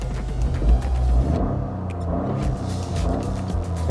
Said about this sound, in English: You can hear the turbo already